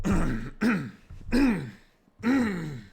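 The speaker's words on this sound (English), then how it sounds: "clearing my throat a little bit" Someone clears their throat several times in a row, four rough, voiced rasps close to the listener with short pauses between.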